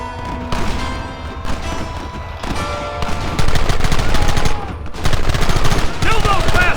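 Heavy gunfire in the Red Dead Redemption video game, dense rapid shots and bursts that pile up continuously and loudly, mixed with shouting voices and game sound.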